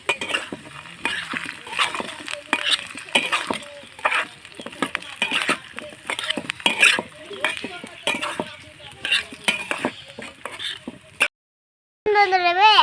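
A spoon stirs vegetables in a cooking pan with repeated scraping strokes, clinks against the metal and a light sizzle, while a person talks over it. A short silence near the end is followed by a tonal sound.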